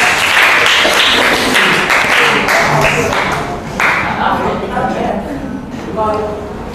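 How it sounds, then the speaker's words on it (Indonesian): Classroom applause from Grade 9 students at a school project presentation, steady crowd clapping filling the whole stretch, with voices talking over it. "Tepuk tangan ya."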